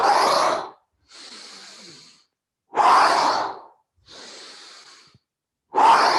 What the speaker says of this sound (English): Deep inhale through the nose, full exhale through the mouth.